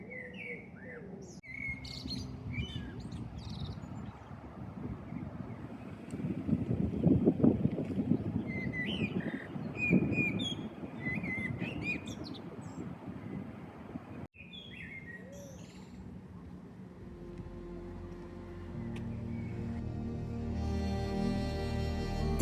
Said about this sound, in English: the song of the birds